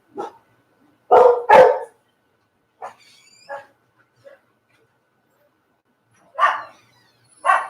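Several dogs bark at someone at the door of a house in short, loud, close bursts, separated by brief silences, with a couple of softer yips and whimpers between the barks.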